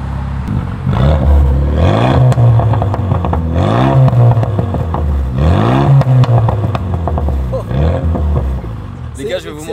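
A BMW car engine revs and strains under load in loud, repeated rising and falling sweeps that fill most of the stretch, with a brief pause near the end.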